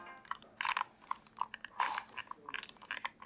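Faint, irregular rattling and clicking from an aging Razer Viper V3 Hyperspeed computer mouse, small sharp ticks in quick uneven bursts, close up and quiet.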